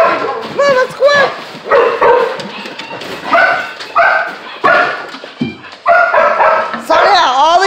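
Rescue dogs, including a pug-shepherd mix, bark, yip and whimper almost continuously at close range in loud overlapping bursts, with a few short pauses and a rising whine near the end.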